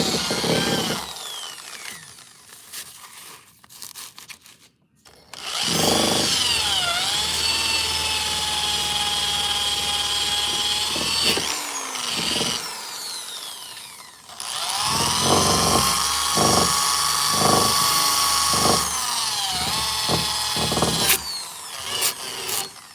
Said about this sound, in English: I have a bench grinder, and I'll just nick it there just to clean that up.